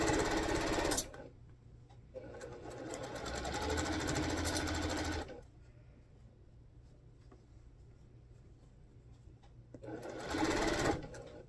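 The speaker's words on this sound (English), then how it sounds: "I'm going to sew all the way down that first column through all 5 of the rows" Sewing machine stitching down a column through five rows of fabric, running in two long bursts, loud and steady, with a short burst at the end and quiet pauses between.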